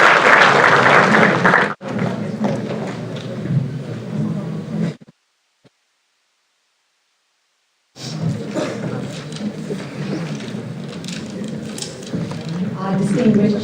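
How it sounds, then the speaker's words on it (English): Loud crowd applause at a university school of business inauguration event, a dense roar of clapping that breaks off, falls silent for about three seconds, then resumes strongly. "Can you please have a huge round of applause?"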